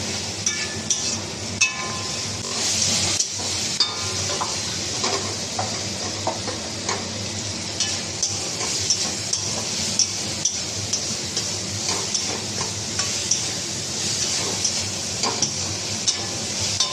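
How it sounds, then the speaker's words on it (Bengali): Hog plums with salt and turmeric frying in a pan for a hog plum and mustard dish, a steady close sizzle with intermittent stirring clinks and scrapes throughout, no talking. "একটু হলুদ, তো আমড়াগুলো একটু ভালো করে ভেজে দেবো।"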